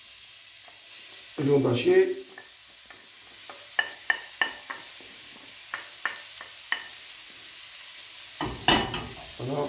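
Butter melting without oil in a pan for chili con carne gives a faint, low sizzle, broken by light taps and scrapes of stirring. A person talks at the start and again at the end.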